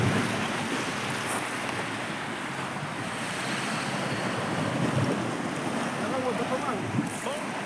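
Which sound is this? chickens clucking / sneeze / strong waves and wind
strong waves and wind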